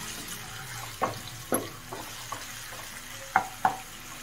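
Ginger garlic paste sautés in a pan with curry leaves for an egg curry, a soft steady sizzle broken by four or five sharp spoon scrapes and taps, with no talk.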